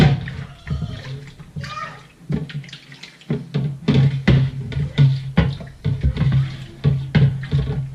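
Water splashing and trickling as a vinyl record is rinsed in a second basin of water after washing with soap, with intermittent sloshing bursts and a steady low hum underneath.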